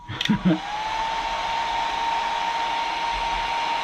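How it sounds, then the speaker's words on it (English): A heat gun blows a steady, loud rush of hot air to dry glue on model trees, starting up after a few short clicks and then holding a constant whine for several seconds. "I'm going to turn this heat gun on for a quick second, so it's going to be loud"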